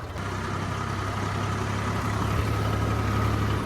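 A Swaraj 744 4x4 tractor with a rotavator attached idles steadily nearby, giving a continuous low diesel rumble with a constant hum and no talk.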